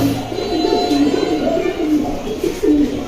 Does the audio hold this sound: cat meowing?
no